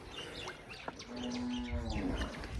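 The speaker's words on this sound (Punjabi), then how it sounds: "ਆਹ ਲਓ ਜੀ ਮੱਝਾਂ ਨਹਾਉਂਦੀਆਂ ਨੇ" A water buffalo lets out a long, low moo while buffaloes bathe in a village, over a noisy outdoor background, with faint bird chirps scattered around it.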